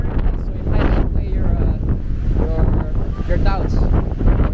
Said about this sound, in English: if you don't like the wind, if you don't like windy conditions, then this is definitely not somewhere you should go